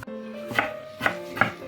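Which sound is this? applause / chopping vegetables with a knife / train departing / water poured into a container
chopping vegetables with a knife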